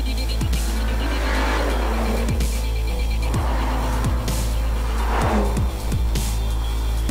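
A BMW with a 3-liter straight-six and a big single turbocharger drives with a steady engine drone and repeated falling whooshes as it shifts or passes, loud and continuous, without talk.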